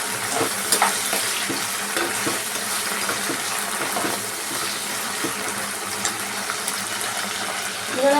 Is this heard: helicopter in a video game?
no